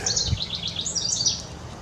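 A bird sings outdoors in a park, giving a steady run of bright, high chirps and warbles close by over faint low background rumble, with no talking.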